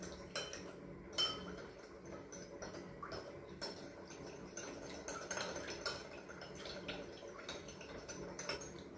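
Utensils stir and mix a roasted bell pepper appetizer in a bowl, with repeated light clinks and scraping of cutlery against dish, close and steady throughout, no talking.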